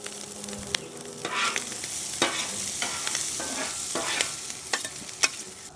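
Corn shaved off the cob fries in ghee on a flat top griddle, a steady bright sizzle broken by occasional scraping and stirring clicks from a spatula, close up with no talk.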